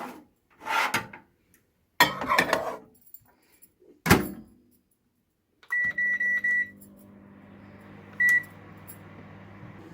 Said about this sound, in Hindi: चलिए मैं इसे माइक्रोवेव में गर्म करने के लिए रख देती हूँ।